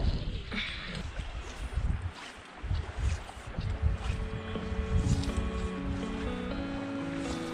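Wind gusts rumble across the microphone over lapping water of a trout stream riffle and a faint tonal hum, irregular and fairly close.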